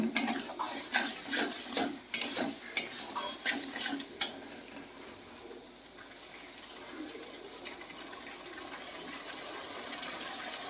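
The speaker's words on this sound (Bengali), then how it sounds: "পেস্টটা দিয়ে একটু নাড়াচাড়া করার পরেই আমি এর মধ্যে এই পর্যায়ে টমেটো কুচিটাও দিয়ে দেব" A utensil scrapes and clatters in a pan as chopped tomato is stirred into egg curry masala paste, with a run of sharp metallic knocks early on, then a softer, steady frying sizzle with no talk.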